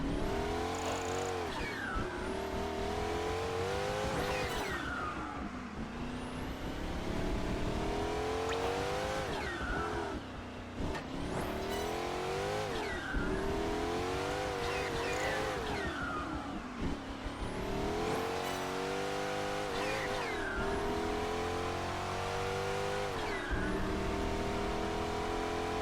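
A race car engine in Project Gotham Racing 4 on Xbox 360 screams repeatedly, climbing in pitch through each gear before dropping and winding up again, with no talking.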